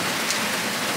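Steady rain pours during the rainy season, a dense, even hiss of drops hitting surfaces, close and continuous with no voices.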